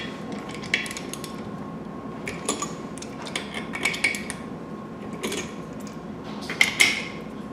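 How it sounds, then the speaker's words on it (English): A ratchet wrench with a 3/8 deep socket on a 1/2-inch drive loosening valve manifold nuts, producing scattered short bursts of metallic clicks and clinks at irregular intervals, close up, with a faint steady hum underneath. "So here I have a 3/8 deep socket on a 1/2-inch drive ratchet wrench."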